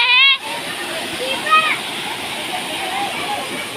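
The Jatmai Garh waterfall near the Jatmai Mata temple in Gariaband gives a constant roaring rush of falling water, with faint voices of people nearby mixed into the steady flow.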